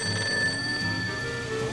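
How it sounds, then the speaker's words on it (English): A stage telephone on a film set rings steadily and clearly, a continuous electronic bell tone with no talk over it. "they're driving along in a truck in 1932 and a stage phone rings, Eddie invents a way to save the scene."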